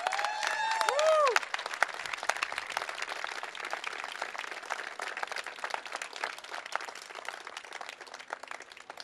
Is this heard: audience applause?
yes